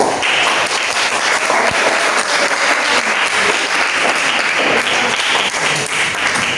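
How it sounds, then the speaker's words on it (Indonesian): A classroom of students applauds at the end of a lesson, steady dense clapping that holds at an even, loud level throughout with no talk over it. "Oke, tepuk tangan."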